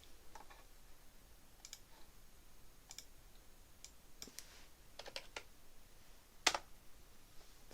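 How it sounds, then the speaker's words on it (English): Fingers tap out a short burst of scattered, quiet clicks on a computer keyboard, typing a pair of initials, with one sharper key strike near the end and no voices. "Let's type his initials."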